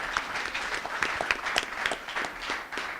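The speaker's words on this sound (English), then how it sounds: "how about another round of applause for all the student teams today?" Applause from the audience at a university pitch competition, honoring the student teams: dense, steady clapping from a medium-sized crowd with a few sharper nearby claps standing out, sustained throughout without speech.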